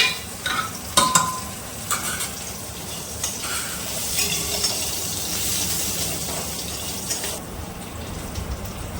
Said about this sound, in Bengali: ফোড়নটা আমার ভাজা ভাজা হয়ে গেছে